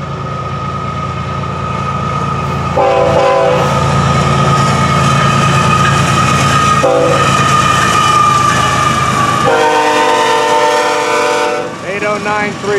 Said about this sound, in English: Oh, damn horn, so loud.